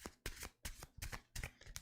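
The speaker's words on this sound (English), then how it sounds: "People like the sound of shuffling." Tarot cards are shuffled in several quick bursts, each a crisp riffling flutter separated by short pauses, close and fairly quiet.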